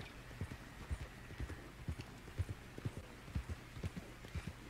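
Horse hooves clip-clop at a steady riding gait in the video game Red Dead Online, a rhythmic, moderately loud pattern of evenly spaced low thuds over a faint background hiss.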